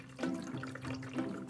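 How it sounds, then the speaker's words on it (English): Water poured into a coffee machine reservoir, a steady trickling splash at close range, with no talk. "We're gonna pour the water."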